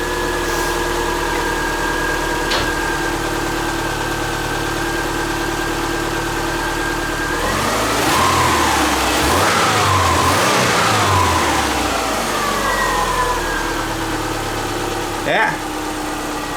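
A freshly installed Subaru Forester engine warms up at a steady idle, then revs up hard in a loud, rough surge midway before settling back to idle, with a sharp click near the end.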